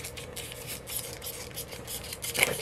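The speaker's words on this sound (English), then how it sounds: "I saw off the top of the cork" A wine cork has its top sawn off by hand with a small saw, giving a run of quiet, rhythmic rasping strokes up close. A sharper scrape comes near the end.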